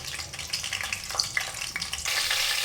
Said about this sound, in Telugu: నూనె అయితే హీట్ అయిందండి కుక్కర్ పెట్టుకున్నాను నేను ఇందులో పచ్చిమిర్చిని అయితే వేసుకుందాం